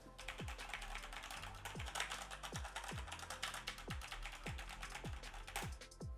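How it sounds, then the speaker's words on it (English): Rapid clicking of computer keyboard keys during a quick typing test on a microphone setup, steady and continuous for several seconds with a faint regular mechanical tick underneath, no voices. "And again, quick keyboard test."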